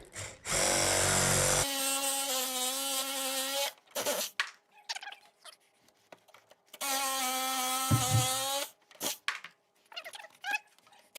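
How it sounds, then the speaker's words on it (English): A Sawzall reciprocating saw cutting during a service installation, running in two loud buzzing bursts of about three seconds each, with quieter clicks and handling noises between them. "at the end of the day, he's using a Sawzall"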